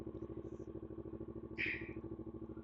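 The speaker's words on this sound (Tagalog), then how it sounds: "Dito kasi ako lagi nagpapainit ng motor" A Raider or Aerox motorcycle idles steadily in a shaded spot during warm-up, a faint, even low engine pulse running throughout, with a brief higher hiss partway through.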